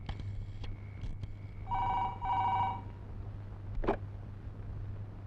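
A telephone rings during a call, two bursts of ringing in the middle, mid-level under a steady electrical hum.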